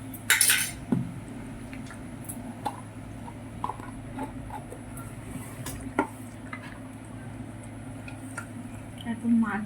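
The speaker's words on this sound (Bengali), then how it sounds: "ক্যাপসিকাম ভালো করে মাখিয়ে নিচ্ছি" Capsicum is mixed into chili chicken with utensils, producing scattered metallic clinks and scrapes and soft squishy stirring, with a sharp clatter near the start and talk running through.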